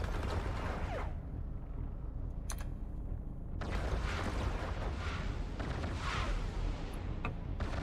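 Scourge Javelin missile launches in the space game EVE Online, heavy booming bursts over a steady rumbling drone, with a sharp launch near the start and further blasts following.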